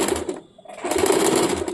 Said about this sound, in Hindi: इसी प्रकार से मैं पूरे पे सिलाई करके आप लोगों को दिखा देती हूँ।